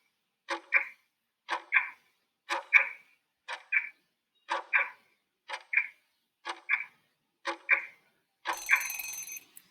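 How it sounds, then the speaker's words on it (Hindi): A quiz countdown timer ticks in nine evenly spaced double-clicks about one second apart, crisp and clear against silence, ending in a brief buzzy burst. "तो जी जो आपका टाइमर है वो स्टार्ट होता है।"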